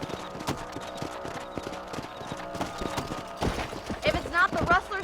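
Horse hooves clip-clop at a steady walking rhythm in the Western video game Red Dead Redemption, close and moderately loud, with a voice talking over them near the end.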